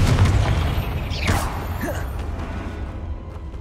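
Bombarda and Confringo spells explode in the Hogwarts Legacy video game, a deep rumbling boom up front, then a whooshing burst and pops that fade into a lingering low roar.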